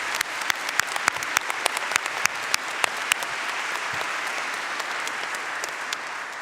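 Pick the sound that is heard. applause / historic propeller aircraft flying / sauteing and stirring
applause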